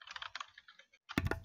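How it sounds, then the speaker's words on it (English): Bursts of rapid clicking from someone typing on a computer keyboard, close and fairly loud, broken by a brief pause before a denser flurry of keystrokes. "Is somebody typing?"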